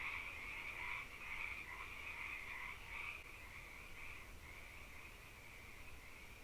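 A chorus of frogs croaks steadily at the close of an album track, a soft, continuous trilling layer that wavers slightly in strength and carries on alone without voices.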